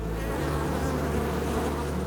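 A dense, steady hum of many honey bees buzzing around a hive, loud and close, with a constant droning tone and no voices.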